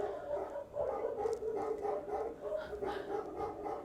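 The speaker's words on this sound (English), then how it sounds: "the dogs are howling for us in the town" Dogs howling and barking in a town during a staged performance of an ancient Greek play, a quiet cluster of repeated yelps and howls blended over a low murmur, somewhat distant.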